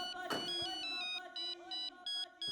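A telephone ringtone sounds in repeated bursts of electronic tones while a call is placed, with a brief voice near the start.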